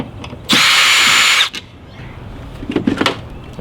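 A power driver whirs in one loud, steady burst of about a second as it backs out a tail light screw on a Jeep Wrangler JK, followed by quieter clicks and handling noises.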